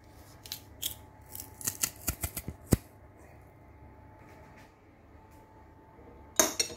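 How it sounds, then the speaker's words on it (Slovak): Two garlic cloves are pushed through a press into sweet cream: a run of sharp, close clicks and crunchy snaps, then a quiet pause, then one loud clattering burst near the end. "Do toho si teraz pretlačíme takéto dva cesnaky."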